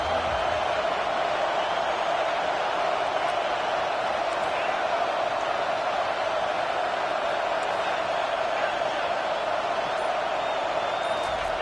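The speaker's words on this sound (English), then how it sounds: "Listen to the crowd energy here in the early going." Crowd noise fills a Tennessee Vols football stadium early in a game, a steady, dense roar sustained throughout with a broadcast announcer talking over it.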